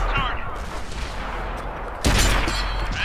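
A tank cannon firing in the console game World of Tanks, one heavy, loud boom partway through that rings out over steady game noise, with someone talking beforehand.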